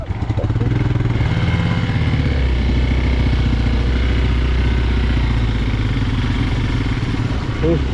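A motorcycle engine runs steadily on a ride near Sakleshpur, a loud, close, throbbing low drone that holds constant with a faint rattling clatter.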